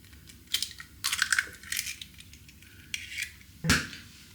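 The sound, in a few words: eggs being cracked into a container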